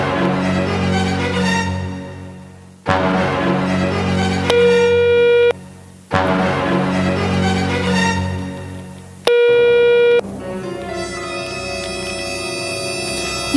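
An unanswered phone call plays a loud melodic ringback tune, a repeating musical phrase that restarts several times with brief gaps and nothing else over it.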